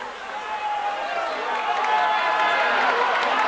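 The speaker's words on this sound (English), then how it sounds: "The cheering is because Kilcar are playing away at the far end and have sent the ball wide down there" Crowd cheering at a 1988 Donegal senior football county final between Killybegs and Kilcar, a sustained roar of spectators building slightly louder over the few seconds, heard from a distance across the ground.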